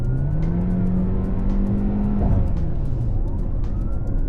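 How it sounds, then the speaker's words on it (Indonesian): A KIA Seltos rated at 115 PS accelerating hard, its engine note rising steadily in pitch, loud and close from inside the cabin, with a brief dip as it shifts before climbing again. "Cuma ketika kita butuh itu masih ada nih, kita coba gaspol dikit."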